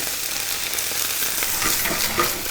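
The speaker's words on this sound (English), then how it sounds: "see the way the cabbage is kind of like crackling?" Loud, continuous crackling and sizzling from cabbage steam-frying in a frying pan, with brief spikes of popping and stirring.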